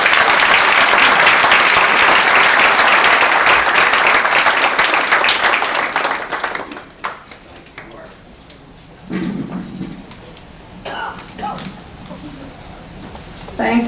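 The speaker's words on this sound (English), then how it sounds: "Now let's give a big round of applause to Nancy." Audience applause at a foundation case study release, loud and dense for about six seconds, then tapering off into scattered claps and low murmurs of a room settling.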